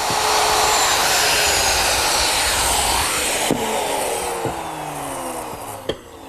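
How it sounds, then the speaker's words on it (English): Router fitted with a collar and a 3/8-inch straight cutting bit removing walnut from a jig, a loud, steady high-pitched whine that holds for several seconds, then begins to wind down with a few sharp knocks. "To remove the material, I'm using my router, which is set up with a collar and a 3/8-inch straight cutting bit"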